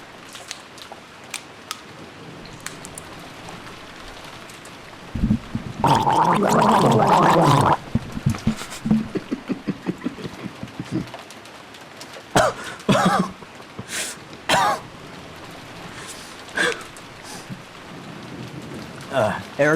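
A person imitates rain with their mouth, a burst of hissy, gargly spluttering noise for a couple of seconds, followed by scattered short mouth sounds and bits of talk.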